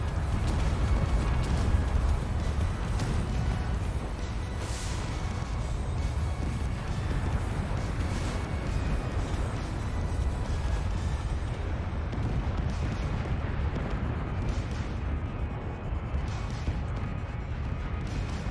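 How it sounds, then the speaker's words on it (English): Distant long-range weapon fire from the space combat game Starcore, a steady dense rumble of shots and impacts with some sharper bursts, continuous and loud throughout. "long range fire coming in from McCaleb"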